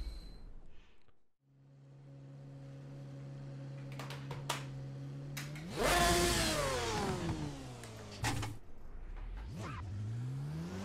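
A racing car in the Assetto Corsa RSS GT Pack mod: a steady idle hum, then a loud rising rev with a sweeping pitch, brief blips and a final sharp throttle burst, with no talk.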